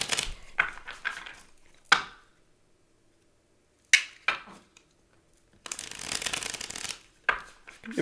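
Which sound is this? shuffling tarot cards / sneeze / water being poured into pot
shuffling tarot cards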